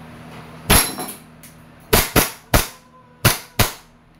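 A WE 1911 Classic Type A airsoft pistol fires five sharp, loud cracking shots in an irregular rhythm, each with a short ringing decay, over a quiet background hum.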